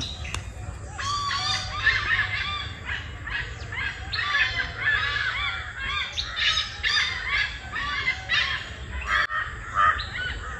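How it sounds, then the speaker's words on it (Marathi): A busy chorus of birds chirping and squawking in the morning in a Konkan village, with crow-like caws among them, steady for the whole stretch over a low background hum. "सकाळी सकाळी पक्ष्यांचे आवाज बघत असले आहेत."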